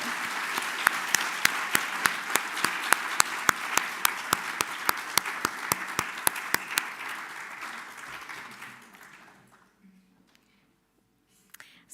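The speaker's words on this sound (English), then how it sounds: "Can we give one round of applause again for Fiona?" A round of applause for Fiona at an inaugural university lecture, a crowd clapping steadily with one sharp nearby clapper standing out, fading out after about eight seconds into near silence.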